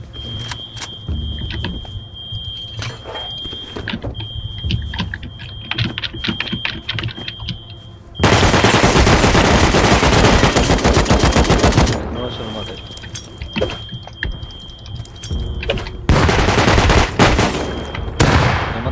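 Rapid automatic gunfire in the survival game Rust, bursts of loud shots with a dense, sustained fusillade in the middle, close and harsh over game ambience and a faint high tone.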